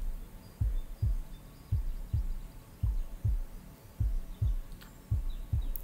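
A slow, steady heartbeat pulse for meditation thumps in deep double beats, each lub-dub about a second apart, soft and muffled over a faint hum, with no voice.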